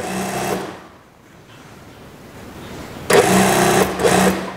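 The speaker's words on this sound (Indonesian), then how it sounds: "Pokoknya jahit terus sampai pol" Sewing machine stitching the elastic waistband of kolor shorts, running in a loud close whir for a burst, pausing into near quiet, then starting again for another stretch of stitching, with no talking.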